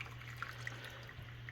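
Water poured into the trigger assembly of a Carcano M91 rifle fills a basin for soaking off cosmoline, giving a soft, faint steady trickle with a few small drips and splashes close by.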